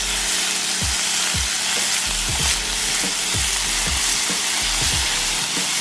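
Food fries in oil with a loud, steady hiss and crackle, broken by repeated light scraping and stirring knocks, close up and with no talk.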